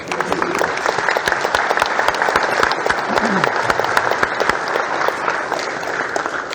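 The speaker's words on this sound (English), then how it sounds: "Let's give Eddie Sutton a round of applause." Loud, sustained applause from a crowd at a gathering for Eddie Sutton, many hands clapping sharply and continuously at close range without a break.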